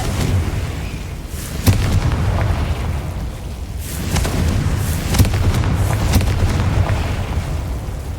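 Confringo blasting spells explode in Hogwarts Legacy as loud, deep rumbling booms, with a few sharper blasts punching through a dense, continuous roar.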